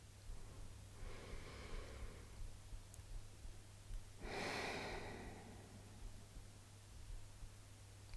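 Slow, deep breaths during a yoga three-part breath exercise: a soft airy inhale followed by a fuller, louder exhale, close and unhurried over a faint steady hum, with no talking.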